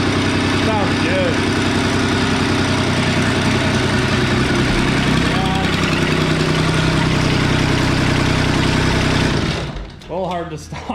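A turbocharged diesel lawn mower engine idles close by with a loud, steady, rattling rumble for about nine seconds before dropping away. Voices talk over it.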